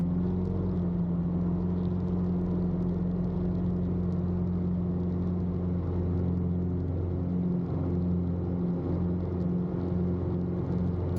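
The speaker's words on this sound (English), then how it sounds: "Now we're going to do the takeoff, the gravel bar, 20 degrees of flaps, full power, and we are off very quickly." A Carbon Cub airplane at full power takes off from a gravel bar, a loud, steady droning engine with a strong low hum that holds throughout.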